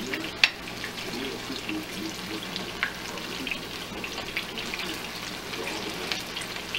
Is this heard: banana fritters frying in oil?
yes